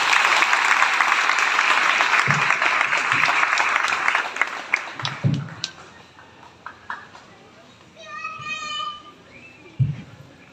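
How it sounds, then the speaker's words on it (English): Applause from the audience at a school graduation ceremony rises loudly for several seconds, then thins into scattered claps and knocks, with brief background voices and a short tonal sound near the end. "A round of applause, please."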